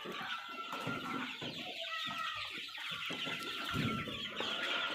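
Vaccinated Sonali chickens in a shed give repeated soft clucks and short calls, close and fairly faint, scattered unevenly across a quiet background with no talking.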